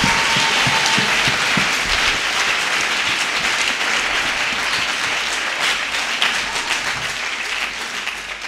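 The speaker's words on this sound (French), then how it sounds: "applaudis Jésus pour cette grâce extraordinaire" A church congregation applauds during a Sunday worship service, a dense, loud, steady wash of clapping that fills the whole stretch and eases off slightly toward the end.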